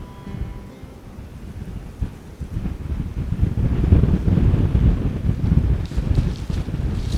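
Blustery wind buffets the microphone in low, rumbling gusts that build and stay strong throughout, with no voices.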